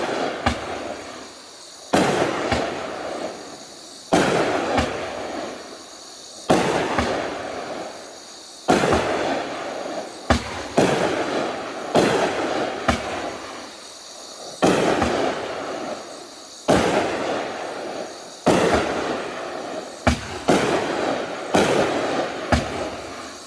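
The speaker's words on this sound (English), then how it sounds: "This is Raging Willow by Raccoon Fireworks." Raging Willow, a 200 gram 19-shot fireworks cake from Raccoon Fireworks, fires in a rapid series of sharp booming launches and crackling bursts, each shot ringing out loudly in turn.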